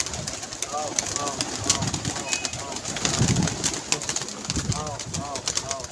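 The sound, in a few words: pigeons cooing at a pigeon club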